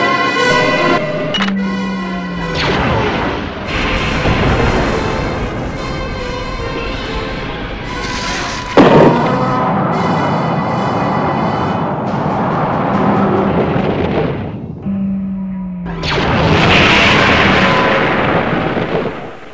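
The G-Buster weapon fires in a Godzilla stop-motion fan film, loud booming energy blasts with roaring, crackling bursts, sweeping tones and rumbling explosions that fill the scene almost without pause.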